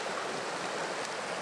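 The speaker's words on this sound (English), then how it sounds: "And this river here, it flows right through the city of Melbourne" Steady broadband rush of the river flowing through Melbourne at Warrandyte, heard on the Gold Heritage Walk, continuous and fairly loud with no voices over it.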